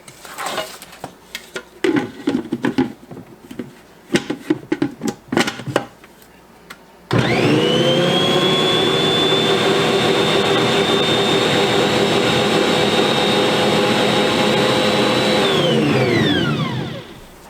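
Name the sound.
stand mixer mixing bread dough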